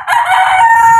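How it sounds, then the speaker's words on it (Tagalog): A rooster crows loudly and close by, a single strained, drawn-out call that holds a steady high pitch. "May tilaok."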